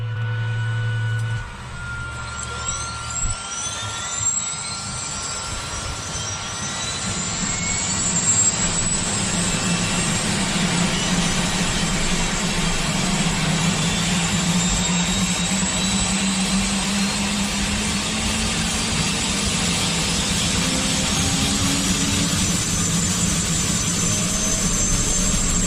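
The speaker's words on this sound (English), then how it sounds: "Open the throttle, the rotation is increasing." A loud, steady helicopter engine roar builds and rises in pitch as the turbine spools up for takeoff, with a broadband whine filling the space and no voices.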